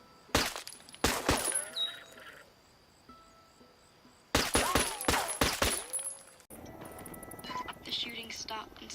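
Bursts of video game gunfire in Ghost Recon Wildlands, loud and close, come in dense volleys with sharp transients, pause, then return before shifting into a busier mix of game effects.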